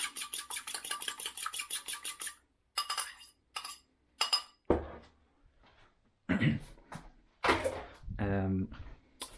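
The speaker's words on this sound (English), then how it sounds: "I'm gonna whisk this up." A fork whisks eggs in a bowl with quick, rapid clinking at a steady rhythm, then stops. Scattered kitchen clatter follows, and a voice speaks close by.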